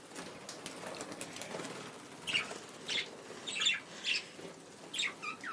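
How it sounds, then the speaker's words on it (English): Pet budgies bathing outdoors in Australia give off a series of short, bright bursts of chirps, squawks and wing-flapping splashes, spaced a second or so apart over a quiet background. "this is just a short video of my birds"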